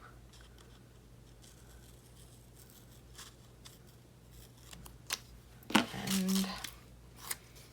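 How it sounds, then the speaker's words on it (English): Scissors make a few quick, crisp snips through a planner sticker, close and clear, with a brief rustle of the paper. A single short spoken word comes in at one point, and otherwise the background is quiet. "I'm gonna cut this sticker a little bit."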